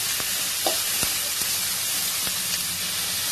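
Sliced snake gourd sautéing with salt in a pan, a steady close sizzle and hiss with a few soft stirring knocks throughout.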